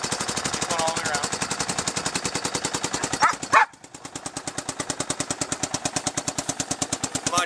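Go-kart engine built from ATV parts, now fitted with a quieter exhaust, idling with a fast, steady popping pulse, close and loud, briefly revved around the middle before settling back into the same even rhythm.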